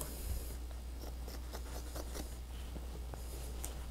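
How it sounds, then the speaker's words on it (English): Scissors snipping through canvas fabric while homemade canvases are made, a run of close, crisp cutting strokes with soft rustling of the material and no talking. "And then I take and I cut this side."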